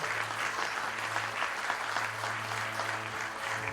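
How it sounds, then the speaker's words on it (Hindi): Applause welcoming the chief guest at a 125th birth anniversary event for Dr. Babasaheb Ambedkar, continuous clapping from a seated crowd heard at moderate distance over a low steady hum. "अनुराग भूषण जी का स्वागत करेंगे प्रीति बिरानी जी, तालियों से स्वागत।"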